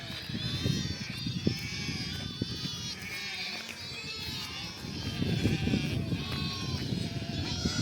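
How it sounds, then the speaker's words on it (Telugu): Young lambs bleat repeatedly as they run about outdoors, their high cries overlapping throughout at moderate distance, while people talk and call over them. "చూడండి ఫ్రెండ్స్, ఎట్లా దొరుకుతున్నాయి గొర్రె పిల్లలు"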